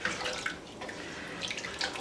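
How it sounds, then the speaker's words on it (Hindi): Water from a tap or jug pours into a cooking pot that held ground tomatoes, for a Peshawari chana (chickpea) curry: a steady, moderately loud splashing stream with brief surges, no voices. "पानी डाल दिया"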